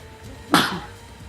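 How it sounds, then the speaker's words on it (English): A person lets out a single sharp sneeze, close and abrupt, with a short breathy tail and nothing else around it. "Oh, gonna sneeze."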